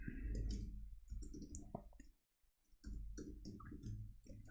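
Computer keyboard keys click in quick, uneven bursts at close range, with a brief quiet gap midway before the typing resumes.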